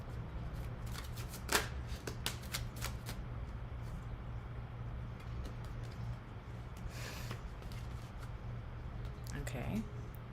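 Oracle cards are being shuffled by hand: soft riffling and slapping bursts, close up, recurring irregularly against a steady low hum. A person talks quietly at times.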